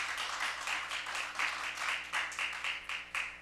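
Many hands clap together in a church congregation during a New Year revival gathering, steady rhythmic clapping in near-unison beats that carries on for several seconds at a moderate, even level, with no voices over it.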